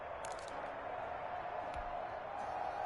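A football stadium crowd in a Vikings–Bears game roars steadily before a 2-point conversion, a continuous dense wash of voices with faint whistles or cheers rising on top throughout.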